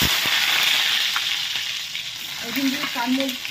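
Garlic frying in hot mustard oil in a wok gives a loud, close, continuous sizzle with scattered crackles, easing slightly as it is stirred toward the end.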